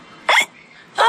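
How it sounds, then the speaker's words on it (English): Hiccups after drinking juice too quickly: two short, sharp gulping bursts about two-thirds of a second apart, close and fairly loud against a quiet background. "George drank his juice too quickly, and now he has hiccups."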